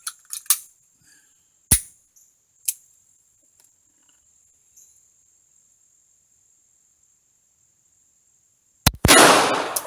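Sharp pistol reports from a Radom P-64 at a shooting range: a few loud, abrupt cracks early on, then quiet broken by a steady insect chirp, and a final burst of noise at the end.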